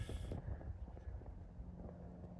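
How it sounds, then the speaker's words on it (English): Low rumbling buffets of wind batter the microphone throughout at an outdoor RC flying session, a dense close-up roar with no voices. "It's windy, you can hear it."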